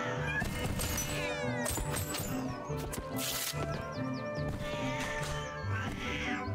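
Cats meow in the Postal video game, several calls overlapping a steady game background with music-like tones, moderately loud throughout.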